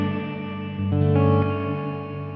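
Guitar notes ring out through a BOSS RV-6 reverb pedal set to its room reverb mode, sustained chords layered with dense early reflections, a second strum joining partway before the tones decay together.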